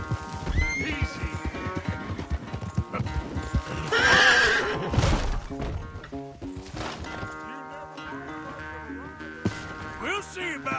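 In Red Dead Redemption 2, a horse whinnies loudly partway through, amid clip-clopping hooves, game music and scattered voices.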